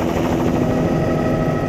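Helicopter flying low over South Texas brush during an aerial hog hunt, a steady loud rotor chop and engine roar that fills the whole stretch without pause.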